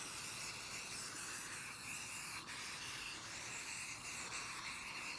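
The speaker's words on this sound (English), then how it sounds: "just gonna spray it all over the dirty part of this carpet" Carpet cleaner sprayed across a dirty patch of car carpet in an EK Civic, a steady close hiss of aerosol spray that runs unbroken throughout with only a brief dip midway.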